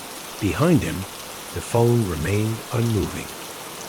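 Steady soft rain patters continuously beneath a calm narrating voice telling a sleep story, the rainfall a gentle background hiss throughout.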